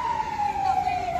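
A fire truck siren wails steadily at a warehouse fire in Valenzuela City, a continuous falling tone heard from a moderate distance over faint background commotion.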